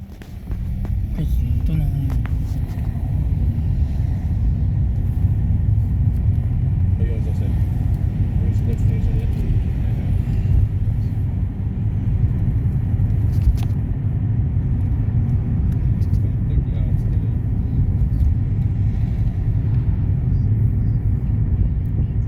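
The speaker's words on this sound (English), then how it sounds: "Traffic." Early-morning road traffic in Birmingham: a continuous low rumble of cars and engines passing nearby, steady throughout, with a person talking over it.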